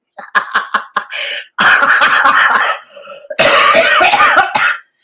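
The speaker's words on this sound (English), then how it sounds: "You get to hear me coughing up a lung instead." Several harsh coughs in quick succession, then longer bursts of heavy, rasping coughing close to the mic, with brief pauses between fits.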